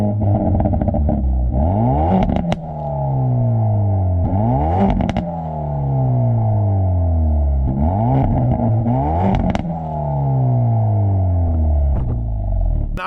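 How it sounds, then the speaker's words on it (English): A 2022 Hyundai Veloster N hatchback engine revved repeatedly, each rev climbing and falling in pitch, with a loud, crackling exhaust close by. "Actually, let's take a quick listen to the exhaust."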